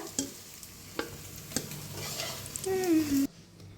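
Eggs fry in a pan for an egg curry and get flipped over with a spatula: a soft sizzle under sharp clicks and scrapes, a short squeaky scrape as they turn, then a sudden stop.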